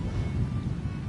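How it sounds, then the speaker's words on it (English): Low rumbling thunder in the Elder Scrolls Online game during rain in the Greenshade region, a faint, continuous deep roll with windy noise and no other sounds. "Some rumbly ass thunder."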